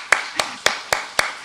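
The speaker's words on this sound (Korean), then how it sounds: "우리 한번 힘차게 서로 박수 한번 할까요?" A church congregation gives five evenly spaced, crisp claps in unison during a Sunday service, fairly close and loud against a quiet room.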